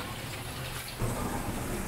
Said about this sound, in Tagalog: At hanggang ngayon, hindi pa rin tumitila ang ulan.